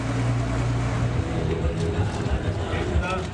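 Boats carrying performers in Yakshagana costume travel about three kilometres across water on a voter-awareness outing in Dakshina Kannada; a steady, close motor drone runs throughout with wind noise over it.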